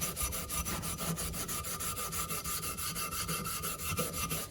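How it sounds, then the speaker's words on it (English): An aluminum boat propeller being hand-sanded to strip loose pitting and flaky old paint, a steady close rasping scrub repeating in quick even strokes, with no talking. "I'm just going to begin sanding"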